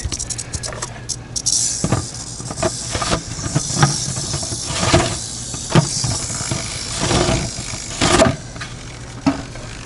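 An angry rattlesnake confined in a bucket gives a continuous dry hissing rattle, close and fairly loud, with irregular louder surges and no talking.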